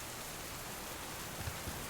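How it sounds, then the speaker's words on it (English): Rain falls in the survival game Subsistence, a steady dense wash of patter with no breaks and a couple of faint low thumps, with no voices. "And here comes the rain."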